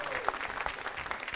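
Audience clapping at a Diwali quiz show, a brief burst of dense applause from a nearby crowd.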